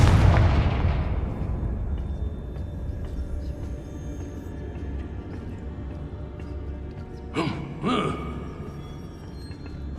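A Confringo fire blast spell explodes in Hogwarts Legacy, a loud boom at the start that rumbles and decays, followed by two short sharp bursts near the end over a low game ambience.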